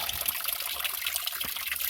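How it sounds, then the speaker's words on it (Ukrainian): Thin, steady trickle of water seeping into a small pond beside a house, a faint continuous splashing and bubbling that runs unbroken throughout, with no voices. "Дуже, дуже слабий підхід води"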